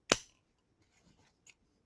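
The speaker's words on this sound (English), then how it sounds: "I can simply take my scissors and trim" Scissors snip once, sharp and close, trimming the bias tape edge on a 100% polypropylene singer's mask, followed by a few faint rustles and a small click.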